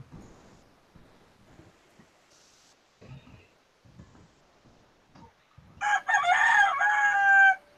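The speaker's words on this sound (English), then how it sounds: "I hear the chickens." After quiet shuffling and tapping, a rooster crows loudly and nearby, one long harmonic call near the end.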